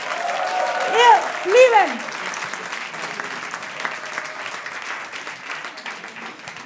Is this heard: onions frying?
no